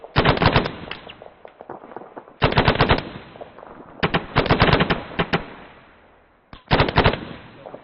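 Rapid machine-gun bursts from an A-10C Thunderbolt II in a flight simulator game: four short, loud bursts of fast shots separated by brief pauses and quieter rumbling, with no talking.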